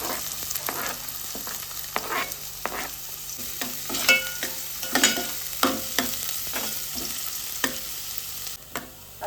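Chopped onion and garlic cloves frying in oil in a pan for a crab curry, a steady sizzle broken by repeated scraping stirs of the spatula, close and fairly loud, with no talking.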